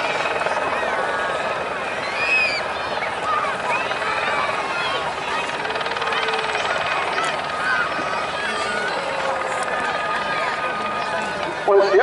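A Gazelle helicopter flies at the Weston-super-Mare air festival over the beach, giving a constant rotor drone at moderate distance beneath a commentator speaking over a loudspeaker.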